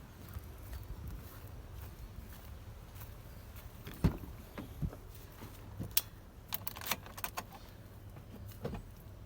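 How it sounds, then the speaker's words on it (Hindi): A 2022 Mahindra Thar is unlocked in a quiet setting: one sharp, loud clunk sounds from the door locks, followed by a few lighter clicks and key jangles. "Let's unlock the car."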